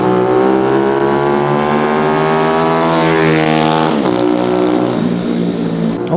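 A Honda Dax motorcycle with a swapped 140cc engine and 28 carburetor runs close and loud, a steady buzzing engine note with clear harmonics, revving upward and then dropping back to idle.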